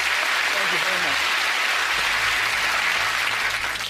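Steady audience applause for a magician's stage performance at Fool Us UK, dense and sustained clapping from a large crowd throughout, with a faint voice underneath.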